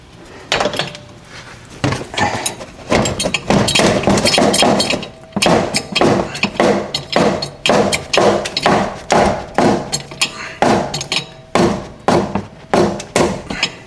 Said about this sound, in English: Take your mallet and hit it in there.